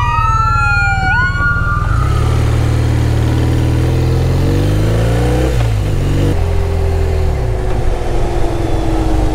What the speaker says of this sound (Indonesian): Hijau nggak jalan, kan ada ambulans.